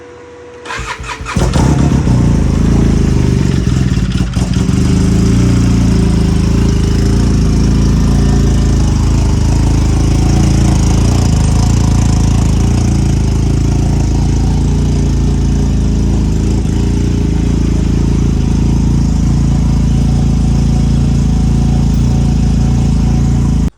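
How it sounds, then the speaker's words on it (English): A snowmobile engine cranks briefly, then catches and roars into a loud, steady run with revving, staying close and dominant with no voices. "as you saw, my snowmobile finally started"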